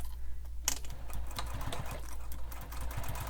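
A sewing machine topstitches along the raw edges of a sling pack, giving a quiet, steady motor hum with fast, even stitch ticking and no voices.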